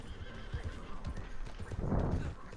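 Horses in the Red Dead Online video game clip-clop with steady hoofbeats, then one lets out a loud, close whinny near the end, with faint game ambience underneath.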